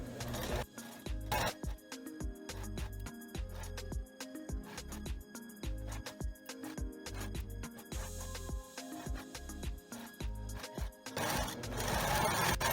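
A sewing machine runs a seam along a gathered skirt, its needle chattering in rapid bursts broken by short pauses, close and loud, with a longer unbroken run near the end.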